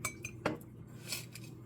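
A spoon clinking against a cup while sugar is added to coffee, a few faint, quick metallic taps spread over a moment in a quiet kitchen.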